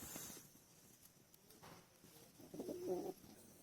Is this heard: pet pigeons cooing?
yes